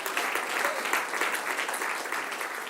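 Loud applause from a church congregation, a dense, continuous roar of many hands clapping throughout, fairly close and even.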